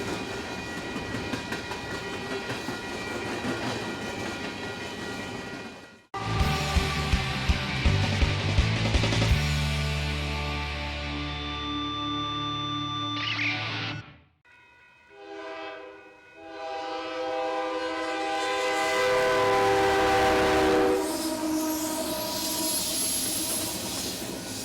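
A train rolls through a level crossing, sounding its horn in long loud blasts over the heavy rumble and clickety-clack of wheels, then the noise fades briefly before the roar picks up again.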